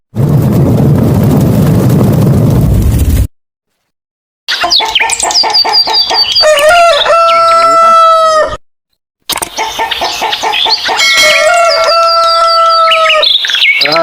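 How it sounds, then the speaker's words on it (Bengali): A rooster crows loudly and close, again and again, with long drawn cock-a-doodle calls broken by two short silent gaps, while smaller birds chirp and cluck around it. "এই পাখিগুলোর জ্বালায় একটু ঘুমে শান্তি নেই"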